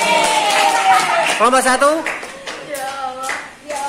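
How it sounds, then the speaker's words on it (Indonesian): Classroom applause for student groups in a Class X lesson at an Indonesian senior high school: a short burst of clapping from the students, mixed with a teacher's voice speaking over it. "tepuk tangan untuk kelompok 2, 3"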